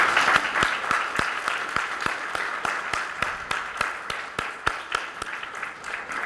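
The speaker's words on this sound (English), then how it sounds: "I want you to give a round of applause" Students applaud at a school Black History Month program, a steady clatter of many hands with a slightly rhythmic pulse that holds evenly throughout.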